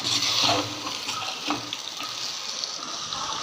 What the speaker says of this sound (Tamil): இந்த முயல் கறியை எடுத்து அதில் போட்டு நல்லா ஒரு இது வதக்கிக்கலாம்